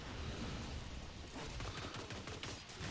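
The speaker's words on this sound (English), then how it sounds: "I am shooting the air" Rapid gunfire from a video game, a dense continuous barrage of shots fired into the air, loud and steady throughout with no talking.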